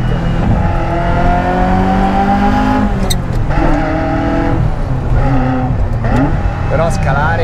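A Ferrari F355 Spider's engine blips and howls through repeated downshifts on a narrow road, loud rising and falling revs in quick bursts heard up close, with someone talking over it.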